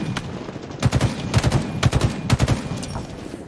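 Video game gunfire and grenades ring out in several rapid, clattering automatic bursts separated by short gaps, sharp and close in the mix with no talking.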